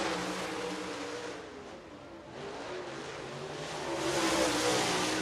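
Race car at Lancaster Motor Speedway held flat out, a loud continuous engine drone that dips briefly and then swells louder as it passes near.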